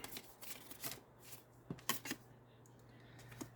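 Tarot cards being shuffled by hand, a quiet run of soft riffling flutters and light slaps with brief pauses between, close and faint, with no talk.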